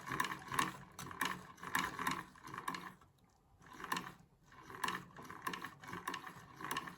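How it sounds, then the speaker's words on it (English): An Essex Miniature sewing machine stitches in bursts of rapid, rhythmic mechanical clicking, with a short quiet pause midway, close but fairly soft. "So if you do it as I did, it will still stitch"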